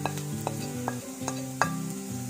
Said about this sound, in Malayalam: ഇനി നമുക്ക് ഇതിനകത്തേക്ക് നമുക്ക് മുളക് പൊടി, മസാല ഇട്ട് കൊടുക്കാം.